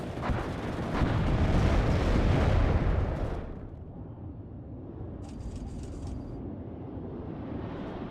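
Grenade launcher blasts in the WARNO strategy video game, a heavy rumbling burst of explosions for about three seconds that fades into a low lingering rumble, with a brief high metallic chime afterward.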